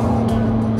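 A rare turbocharged supercar engine holds a loud, close, steady high-rev roar in one short burst, with turbo whine layered over a deep throbbing drone.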